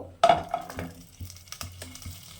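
Whole flat beans (shim) drop into a hot wok with a sharp initial sizzle and clatter, followed by softer scattered crackles and stirring taps.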